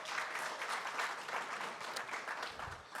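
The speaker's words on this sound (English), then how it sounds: "So let's give her a big round of applause." An audience at a small business summit applauds, with a steady wash of many hands clapping at fairly low volume and no talk over it.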